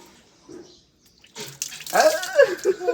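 Water poured over a small child during a bath at home, splashing and running bursts after a quiet start, close and moderately loud, with faint voices nearby.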